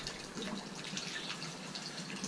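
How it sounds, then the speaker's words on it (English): A small garden pond waterfall, water running steadily over the lip with a continuous close splashing wash and no pauses, alone with no voices. "So there's our little waterfall."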